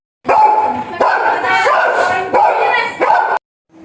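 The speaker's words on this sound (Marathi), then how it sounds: "तर हा कुत्रा त्यांनी घरी पाळलेला आहे" A dog barks loudly and close by in a quick run of drawn-out, vocal bursts, then goes quiet.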